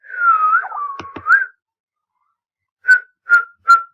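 A person whistles by mouth, first a wavering, sliding whistled tone lasting over a second, then after a pause three short, evenly spaced whistled notes, clear and close.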